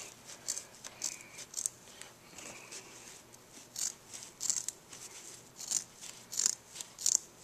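Ordinary household scissors cut through shirt fabric with repeated quick, crisp snips at an uneven pace, close up and soft, with no talking.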